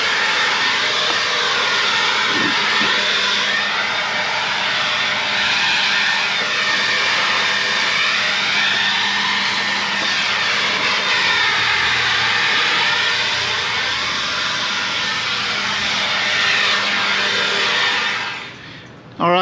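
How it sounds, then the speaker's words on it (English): A small Black & Decker rechargeable leaf blower runs without stopping as it clears off a deck. Its loud, steady whine holds for nearly twenty seconds and then cuts off abruptly. "I got my little Black & Decker rechargeable blower out here. I'm gonna blow off the deck"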